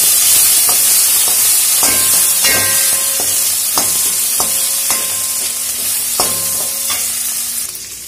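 Onion, tomato and a dried red chilli fry in a pan for a gravy, with loud close sizzling and repeated sharp spatula scrapes and clinks against the pan, and no voices.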